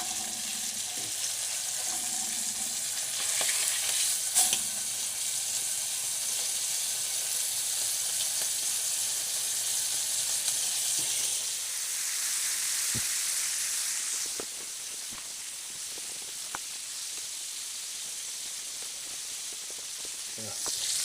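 Loud, steady sizzle of bread frying in a pan just after it is flipped, a bright hiss that holds for a long stretch, then eases slightly, with scattered pops and a voice talking over it.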